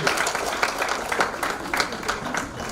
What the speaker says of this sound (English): Let's hear one more round of applause for all our lovely young brilliant students